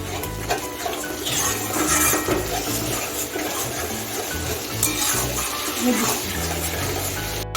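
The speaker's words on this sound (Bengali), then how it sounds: "এখন আমি বানিয়ে রাখা পেস্টটা দিয়ে দিচ্ছি ভালো করে একটু কষিয়ে নিচ্ছি" Spice paste sizzles in a pan on a medium gas flame while a spoon stirs and scrapes, making steady, busy clinks and rustles for a hilsa do pyaza curry. The sound is close and continuous.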